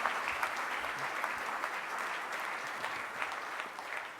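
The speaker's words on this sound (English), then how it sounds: "please join me in applauding this wonderful panel and the interventions" An audience at a panel discussion applauds, a dense, even wash of clapping from a crowd heard from some distance, steady for several seconds with no talk.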